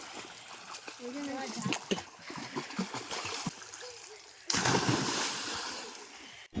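Children swim and splash in a village pond, with intermittent watery splashes and trickles under close talking voices and a louder burst of splashing near the end.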